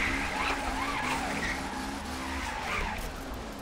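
A car sliding sideways down a hill in a drifting race game, its tires squealing in repeated wavering bursts over a loud engine, while voices talk over it.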